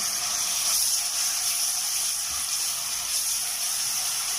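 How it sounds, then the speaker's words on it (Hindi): Garlic and ginger paste sizzles in hot oil in a kadhai, a steady, bright, close frying hiss that holds evenly throughout with no voices. "मैंने ऑयल डाल दिया कढ़ाई में, तो अब हम इसमें सबसे पहले लहसुन अदरक का पेस्ट डालेंगे।"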